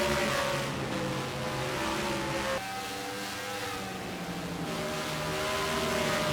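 Race cars in PSRLA Cup Series qualifying at Willow Springs, with engines droning and revving as they sweep through a final corner onto the main straight. The pitch shifts as the cars pass, loud and continuous.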